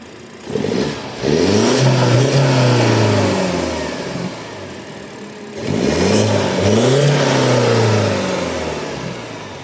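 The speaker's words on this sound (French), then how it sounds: "Donc c'est pour ça qu'on entend bien le bruit d'aspiration." A BMW F30 LCI revs twice, each time swelling from idle to a strong, rising roar with clear turbo intake whoosh, then falling away. The engine is loud and close, with no talking.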